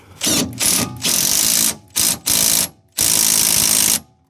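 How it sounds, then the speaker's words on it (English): A ratchet wrench tightens a coilover bolt on a Honda Integra, its rapid clicking running in six bursts of varying length separated by short pauses, loud and close. "so we're gonna tighten this bolt down now"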